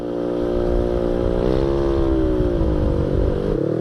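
A Honda Vario motorcycle engine idling steadily and close, given a light blip of throttle so the pitch rises briefly and settles back, a smooth continuous drone with no talk.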